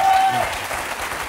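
Television studio audience applauding a guest, a short burst of dense clapping already underway and continuing evenly, with a faint voice over it.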